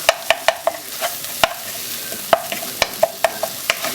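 A spoon mashes cooked-down fresh tomatoes in a curry pot with aubergine and peas, producing soft, irregular clacks and squelches over a light sizzle, close and fairly loud.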